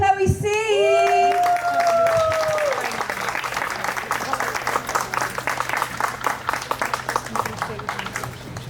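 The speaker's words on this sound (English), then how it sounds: "So please, a big round of applause for Lionel, Marcel, Raphael and Chloe C." A large outdoor audience on the steps at an opera venue applauds young poets, loud, dense clapping with a few whoops, starting under a host's tonal voice and continuing steady and bright, gradually thinning slightly.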